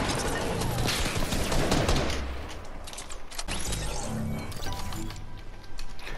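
Rapid bursts of video game gunfire, dense crackling volleys that run almost continuously, with a player talking over them.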